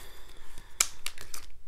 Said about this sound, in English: Just give me just a second to shuffle your cards.